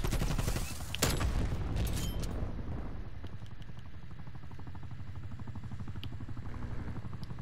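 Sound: helicopter in the video game Call of Duty: Black Ops Cold War

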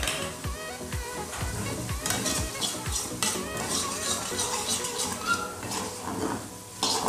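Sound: chopped tomato added to frying spice paste

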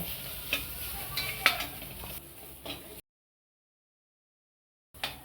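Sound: sautéing masala with coriander and cumin powder

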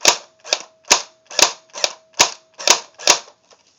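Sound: AK47 airsoft gun firing on semi-auto

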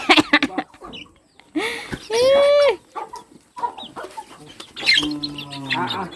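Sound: chicken clucking

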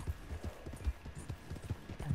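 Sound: horse hooves from a video game

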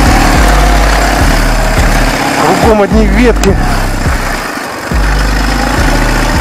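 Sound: motorcycle engine riding up a snowy hill

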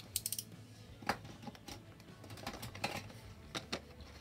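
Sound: cutting open a box with a razor blade

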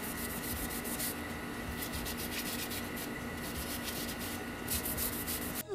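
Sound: sanding a rusty bike rim by hand

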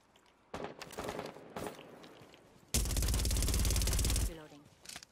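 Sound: silenced gunfire in a video game

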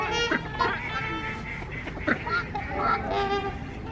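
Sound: ducks quacking while being fed by hand at LaSalle Park

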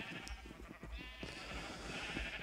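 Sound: sheep bleating in Minecraft video game

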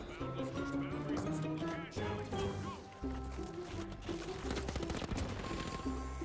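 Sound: gunshots in the video game The Finals

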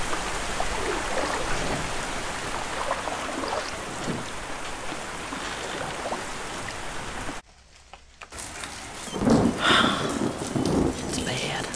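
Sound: rain and thunder in the video game Into the Dead 2

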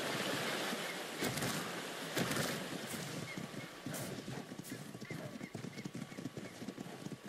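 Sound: horse galloping and neighing in video game Ark

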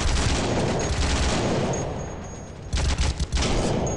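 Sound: gunfire in World War Heroes video game

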